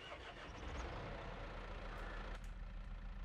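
Steady close idle of a John Deere 6M tractor engine in Farming Simulator 22, a continuous low rumble with a brief mechanical clunk partway through.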